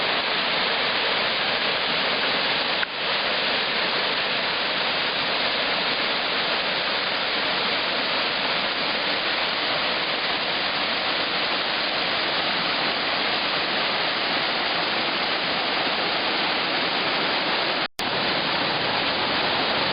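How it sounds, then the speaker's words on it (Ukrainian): Steady rushing water pours and splashes continuously, a small cascade heard up close with no voices. "такий невеличкий каскадного типу водоспадик"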